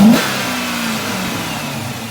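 Chrysler 300C with a Hemi V8 revving briefly, a sharp throttle blip at the start settling into a steady, deep engine hum that carries on alone, close and loud.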